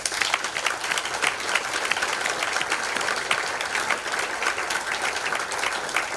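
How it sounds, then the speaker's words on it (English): An audience at an awards ceremony gives a sustained round of applause, dense and steady from start to finish with no voices standing out. "can you give her a round of applause?"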